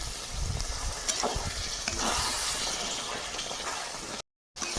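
Ground spice masala for a chicken curry sizzles in a pan after a splash of water, a close, steady hiss and crackle that cuts out abruptly near the end.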